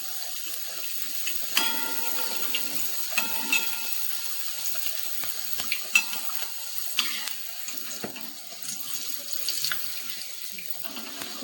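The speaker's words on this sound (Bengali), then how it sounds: "এইভাবে সবগুলো ভেজে নেব।" Stuffed pea kachori puris deep-fry in hot oil, a soft, steady bubbling sizzle with scattered light pops and clinks close by, no talking.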